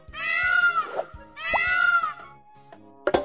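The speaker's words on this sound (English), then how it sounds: "Peacock." A peacock in a children's animal jigsaw game gives two loud, nasal, wailing calls in succession, followed by brief clicks and a short sharp sound.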